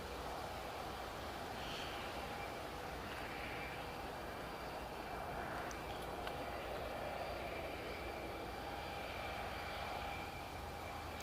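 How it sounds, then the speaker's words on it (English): A Boeing 737 Classic airliner on final approach into Newcastle Airport, a steady distant engine roar and whine that holds an even level throughout, heard from outside with no talking. "the aircraft is now making its final approach into Newcastle International Airport"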